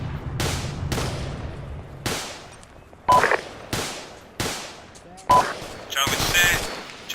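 Machine gun fire in the military game ArmA 2 during a multiplayer training exercise: repeated sharp bursts at roughly one-second intervals with decaying echoes, loud and close, with brief radio-like tones between some bursts.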